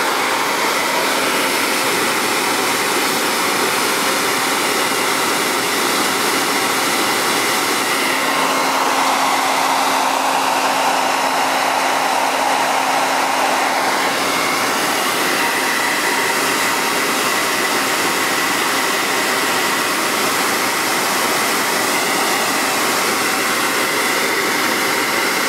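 A heat gun blows a constant loud whooshing roar while softening a nylon fuel line for a 1980s Ford truck, steady throughout with a slight tonal shift midway.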